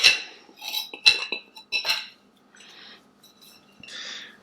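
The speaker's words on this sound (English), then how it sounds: "Just kind of give it a quick little stir to distribute the zest." A quick stir of lemon zest through flour and salt in a bowl, heard as light clinks and scrapes of a utensil against the bowl in short, quiet bursts with pauses between.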